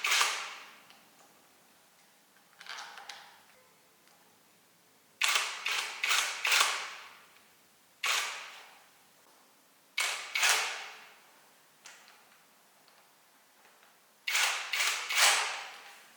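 Tightening the mounting on an Arctic Leopard XE Pro R produces a series of sharp mechanical clicks and ratcheting bursts, grouped in short clusters with quiet pauses between, close and fairly crisp.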